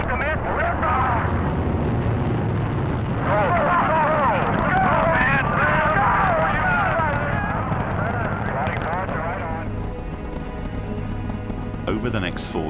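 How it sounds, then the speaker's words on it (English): Saturn I rocket liftoff: a sustained, loud, broadband roar that rumbles steadily throughout, with dense crackling texture above a deep low-frequency base and no clear breaks. "Just 5 months after Kennedy's pledge, the first Saturn I is ready for launch."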